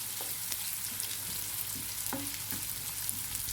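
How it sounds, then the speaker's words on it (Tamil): Onions sauté in groundnut oil in a pan, a quiet, steady sizzle with a few soft clicks and scrapes from stirring, heard close with no talking. "வெங்காயம் சேர்த்துட்டு வதக்கி விட்டுக்கலாம்"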